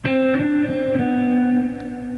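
Electric guitar lick in sixteenth-note triplets from a guitar lesson, played alone with a clear, sustained distorted tone: a quick run of picked notes at the start, then a long held note ringing out.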